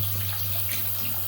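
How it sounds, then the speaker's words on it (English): Milk pours steadily into a pan for vanilla custard, a brief continuous liquid stream with a faint low hum underneath and no talking. "take some of this milk and pour it into"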